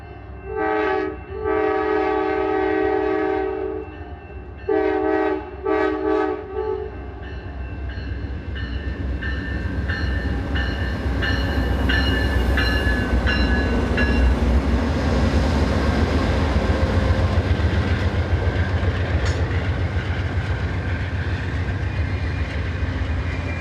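A train passes near the Amtrak station overlooking the Mississippi in Minnesota, opening with several loud multi-tone horn blasts, then a long, building rumble and clatter of railcars rolling by close to the listener.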